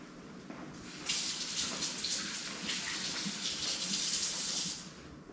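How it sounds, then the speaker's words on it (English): A kitchen tap turns on after a moment of quiet and runs steadily while hands are washed under the stream, then shuts off near the end. "I'm going to need to step over to the sink and wash my fingers."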